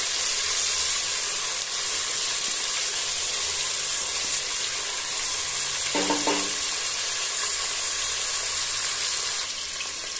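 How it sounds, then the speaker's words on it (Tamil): Onions sauté in an oil-filled pan for coriander rice, giving a continuous even sizzle with a brief clink of a utensil partway through, no voices. "இப்போ வெங்காயம் சேர்த்துட்டு நல்லா வதக்கி விடுங்க."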